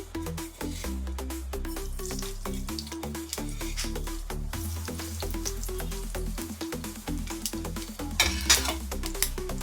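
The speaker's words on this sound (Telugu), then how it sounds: "ఆయిల్ వేడెక్కిన తర్వాత ఆవాలు జీలకర్ర వేసుకోవాలి" Mustard seeds and cumin sizzling in hot oil for a Telangana-style yogurt rasam, a steady close frying hiss dense with quick crackling pops and occasional utensil clinks, with no voices over it.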